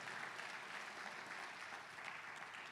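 Steady, dense clapping from a large church congregation during a worship service, sustained and even throughout, heard from a distance with no pauses.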